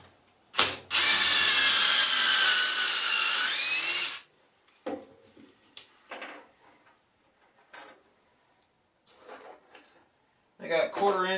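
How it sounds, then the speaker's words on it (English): A power drill pre-drills a hole in a wooden bench for a belt grinder, one loud sustained whine of about three seconds up close, then scattered clunks and handling knocks, with a brief voice at the end. "just kind of eyeball it and pre-drill the hole"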